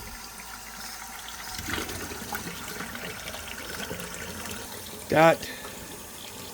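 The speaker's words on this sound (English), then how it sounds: "And then let's give this a rinse." Tap water runs steadily under a coffee cup being rinsed at a kitchen sink, a soft continuous wash with a brief voice near the end.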